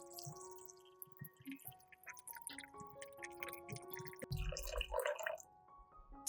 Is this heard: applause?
no